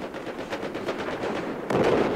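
Gunfire in a tank video game: a steady, dense stream of rapid shots with a louder burst near the end, close and without speech.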